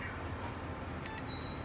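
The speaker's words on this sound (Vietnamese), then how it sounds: "Tít này là tít lên hình này" A desktop computer being repaired after switching on and shutting off gives a single short, high electronic beep on power-up to signal the display, standing alone over a faint background hum.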